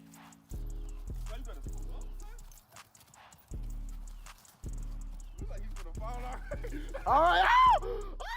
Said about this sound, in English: Cleo, get that horse!